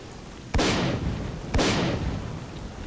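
Two loud, close shotgun blasts in the video game STALKER Clear Sky, about a second apart, each with a booming decaying tail over steady background noise.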